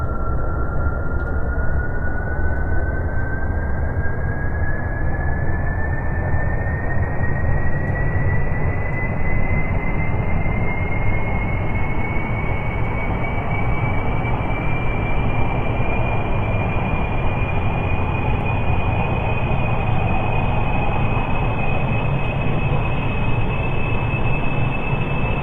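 A jet engine spools up for launch in Kerbal Space Program. A steady, loud roar runs throughout, and a whine slowly climbs in pitch as the throttle rises. No talk is heard.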